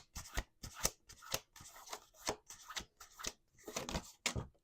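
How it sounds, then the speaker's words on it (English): Close, crisp shuffling of a deck of cards, with about ten quick riffling bursts separated by short pauses, heard clearly with no talking. "We're going to do one more shuffle."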